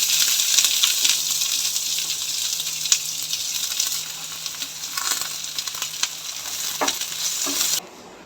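Garlic sizzling as it fries in a pan for a fish masala, a loud continuous crackling hiss with occasional stirring scrapes, steady before cutting off abruptly near the end.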